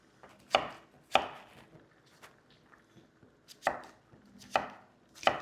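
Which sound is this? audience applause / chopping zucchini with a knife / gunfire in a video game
chopping zucchini with a knife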